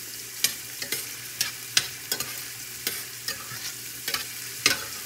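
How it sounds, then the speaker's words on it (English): Chopped onion sautéing in a pan for spaghetti sauce, a steady soft sizzle broken by repeated sharp scraping clicks of stirring. "We're going to put our onion in and mix that for a few. We're going to let this saute"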